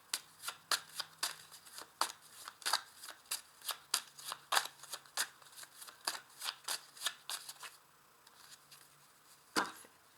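A small deck of 32 playing cards is shuffled by hand, a steady run of crisp papery riffles and slaps close by, quiet overall, ending with a sharper tap.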